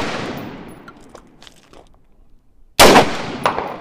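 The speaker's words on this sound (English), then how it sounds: "So AR-15, try number 2. In 3, 2, 1." AR-15 rifle fired at Samsung Galaxy and iPhone phones outdoors: one sharp, loud gunshot crack with a brief decaying tail, following a stretch of quieter background sound.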